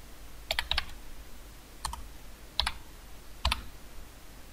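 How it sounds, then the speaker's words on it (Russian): Computer keyboard keys clack in short clustered bursts as text is typed into an embroidery design program, quiet and close with pauses between groups of keystrokes. "кликаем в нужном месте по рабочему полю программы и набираем текст"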